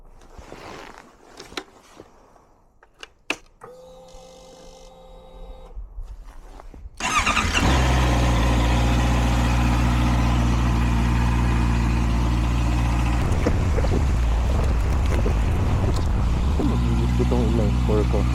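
A 2023 Honda CB650R inline-four motorcycle in a home driveway: a few quiet clicks and a brief cranking stretch, then the engine catches and settles into a loud, steady close-up idle with slight blips in revs.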